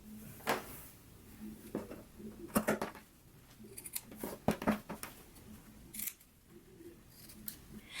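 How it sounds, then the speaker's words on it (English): Scissors trim a sewn fabric seam along the fold line, giving a scattered series of short, crisp snips and rustles close by, quiet and irregular. "now we can go ahead and trim this seam up here along the fold line to 1/4 of an inch"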